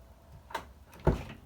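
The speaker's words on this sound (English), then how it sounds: "Let's lock the doors." Power door locks on a 2015 or later Dodge Challenger engaging, two quick mechanical clunks about half a second apart, the second louder and heavier, close by with no talk.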